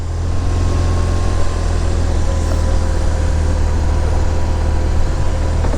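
A car engine drones steadily while driving on the road, a loud, constant low rumble with road noise and no distinct rise, heard alone without talk.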